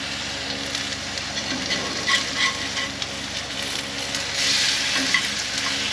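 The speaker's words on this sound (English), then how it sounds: "And that eggs are frying" Eggs sizzle with tomatoes and jalapenos in a pan during a breakfast cooked at an off-grid cabin in Alabama, giving a steady frying hiss with scattered crackles and pops, close up and with no talking.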